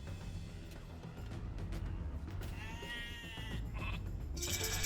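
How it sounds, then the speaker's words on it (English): Sheep in Age of Empires II: Definitive Edition on PC give a few bleats, one long wavering call standing out, over a steady low game ambience. "You have found some sheep."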